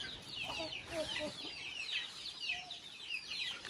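Chickens and chicks clucking and peeping on a small rural farm, with several overlapping soft calls at moderate distance over a faint steady background.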